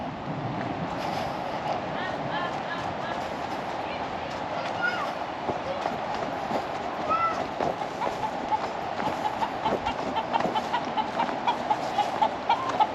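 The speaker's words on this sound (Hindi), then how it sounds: "ये मुर्गा देख के डर गया मैं, परेशान हो गया बेचारा कि कौन आ गया।" Several soft clucks from a rooster in a hillside village in the Neelam Valley near Dudnial, heard faintly beneath a man's speech and rustling outdoor background noise.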